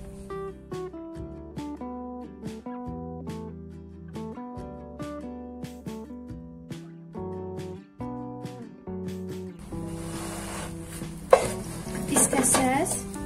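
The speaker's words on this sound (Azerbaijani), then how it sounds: "belə qatlayıb, tavada hər iki tərəfini qızardacağım" Folded lavash frying in a pan, heard as a rising crackling sizzle in the last few seconds after a stretch of melodic background music.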